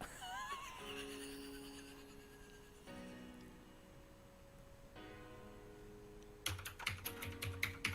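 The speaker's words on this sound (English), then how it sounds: "Typing up my streaming resume" Keys tap on a computer keyboard in irregular bursts, faint at first, then a quicker cluster of crisp clicks near the end over a quiet tonal background.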